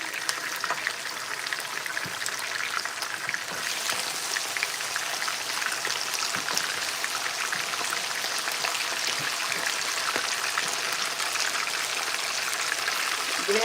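Food frying in hot oil crackles and pops in a dense, steady, close-up hiss that runs unbroken throughout, with no voices.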